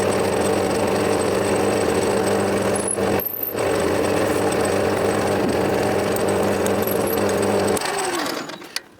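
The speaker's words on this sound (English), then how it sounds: "Now I'm going to put a 4mm drill bit in there and drill right through." A steady, loud drilling whir from a 4mm drill bit runs almost the whole time with a brief pause, then winds down near the end.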